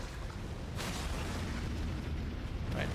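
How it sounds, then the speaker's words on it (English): A big explosion in Elden Ring: Shadow of the Erdtree, heard as a loud, sustained rumbling roar with a sharp burst near the start and a second flare toward the end. "Oh god, that's a big explosion."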